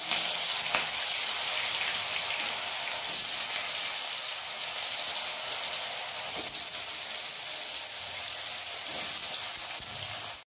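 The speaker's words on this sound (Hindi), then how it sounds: "अब आलू को हम तेल के अंदर इनको अच्छे से फ्राई कर लेते हैं" Potatoes fry in hot oil along with mustard seeds, cumin and red and green chilies, giving a dense, steady hiss with a few sharper pops, fairly close and with no voices.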